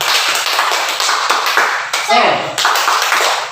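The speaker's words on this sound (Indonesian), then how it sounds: "Tepuk semangat." A group in a classroom lesson performs a rhythmic spirit clap, quick patterned hand claps ringing out close and loud, with voices chanting along and a brief spoken interjection in the middle.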